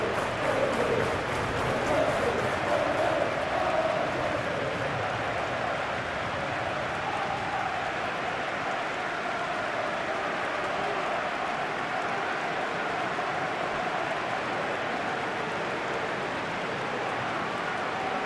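Crowd noise fills a stadium at a Chelsea versus Barcelona Champions League match in the video game Football Life 2025, a steady roar from a capacity crowd that holds at an even level throughout.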